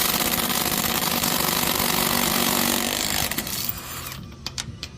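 A power tool loosens lug nuts on a Jeep JK wheel, a loud, sustained buzzing whir close by that drops away near the end into a few sharp clicks and knocks.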